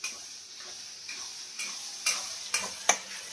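Spices are sautéed for a rupchanda pomfret curry with peas, capsicum and tomato, heard as a soft sizzle with a handful of sharp spatula taps against the pan that grow louder toward the end, and no voices.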